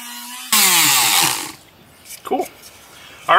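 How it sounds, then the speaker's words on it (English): An electric sander buzzes loudly on scrap plywood pieces for about a second, then stops, leaving a few faint knocks and scrapes before the sander starts up again at the end. "I'm going to sand these off real quick."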